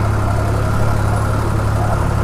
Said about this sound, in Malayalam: എൻജിന്റെ നല്ല സൗണ്ട് ഉണ്ട്.